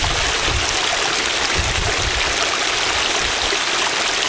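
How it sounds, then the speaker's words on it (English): A creek flows strongly during a summer dayhike, a loud, steady rush of water that stays constant and close throughout with no other sounds. "I didn't expect any of this to have water right this late in the season"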